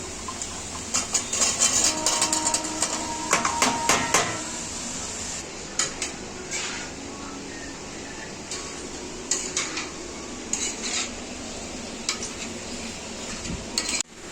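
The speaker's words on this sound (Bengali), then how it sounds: "তারপর এই যে খোলা সমেত আলুটা আমি কেটেছি, তো এটা ধুয়ে রেখে দিয়েছি, এটা আমি এর মধ্যে ঢেলে দেব।" Washed, cut skin-on potatoes tip into a pan of frying spices with a clatter of pieces and scraping against the pan, then a steady sizzle with occasional metallic knocks of stirring.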